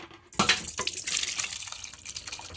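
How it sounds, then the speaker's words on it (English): Fermented mixed fruits pour into a container with a wet, splashing gush that starts abruptly and continues for a couple of seconds, close and moderately loud, with no talking. "I can pour it out into a container so you can see it."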